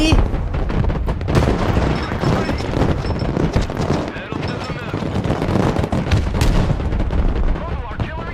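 Heavy, continuous battle noise from the video game Broken Arrow, with repeated booming artillery and gunfire layered densely together, loud and close.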